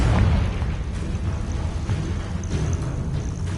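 Confringo fire spell exploding in the video game Hogwarts Legacy during combat, a loud, close, rumbling blast and crackling burst that holds through the clip alongside dense game noise.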